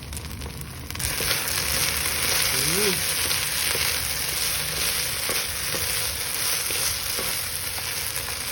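Bacon sizzles in a pan with corn and cream cheese, a loud, dense crackle that starts abruptly after a quieter second and continues steadily, with a short scrape of utensils partway through.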